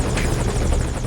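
Helicopter in Metal Gear Solid V, a steady loud rotor thrum and engine whine continuing without a break throughout.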